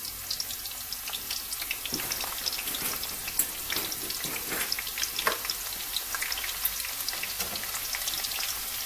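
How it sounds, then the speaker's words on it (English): Chopped onions fry in hot oil for Ghanaian shito, giving a steady close sizzle with scattered pops and some stirring clatter, no talking. "You can tell the oil is hot now. So you cut some onions and put in"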